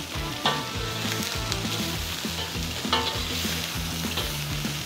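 Large prawns sizzle in a wok over an open gas flame while being fried for XO sauce with shallots, a loud steady crackle with faint clinks of the wok and utensil.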